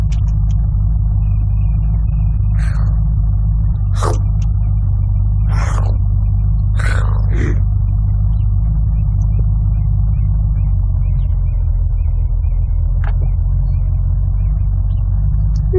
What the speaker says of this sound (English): Look at me driving a car!